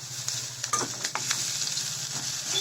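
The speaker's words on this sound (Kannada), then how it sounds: "ಗೋಲ್ಡ್ ಕಲರ್ ಬರೋ ತನಕ ನಾವು ಫ್ರೈ ಮಾಡಬೇಕು" Cheese bread with onion frying in a pan, a bright steady sizzle punctuated by several quick spatula scrapes and taps, no one speaking.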